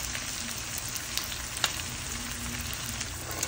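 Meat or chicken fries in a pan with garlic and onion, giving a steady, close sizzle with crackling pops and a few faint stirring scrapes throughout.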